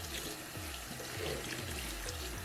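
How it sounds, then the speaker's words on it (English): Tap water runs steadily into a sink while makeup brushes and a sponge are rinsed and pressed free of soap, a continuous close splashing flow with no talking. "I'm just gonna rinse and press to make sure you remove all the soap in it too"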